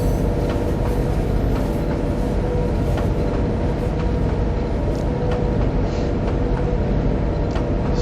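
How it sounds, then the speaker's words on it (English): A moderate freight train rolls along a line in the Trainz simulator game, heading northbound through the Seneca Valley. It gives a steady, dense rumble with faint clacks and rattles, held at an even level throughout with no talking. "we've got a moderate freight train that we're going to haul"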